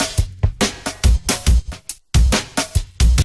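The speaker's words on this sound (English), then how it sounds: "So right now I have this drum loop here." Drum loop with punchy kick and snare hits in a steady, repeating pattern, loud and dry, with a brief gap partway through.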